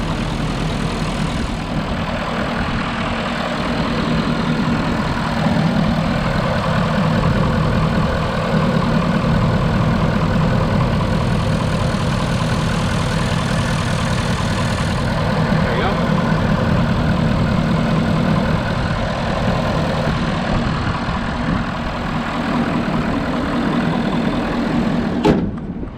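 A 2011 Ford F250 diesel with an aftermarket air filter idles in a loud, steady, low rumble close by for the whole stretch, with a person talking over it at times.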